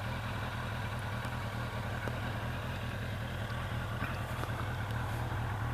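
An XJ750 motorcycle engine with original stainless exhaust silencers idles with a steady, even rumble throughout, no voices over it.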